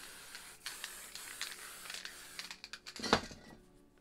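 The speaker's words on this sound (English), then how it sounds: "So the caps are spitting a bit here." A spray paint can hisses in uneven bursts as its caps spit paint during texture work, with short crackling spurts and one sharper pop near the end.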